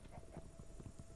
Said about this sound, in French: Bruit de pas.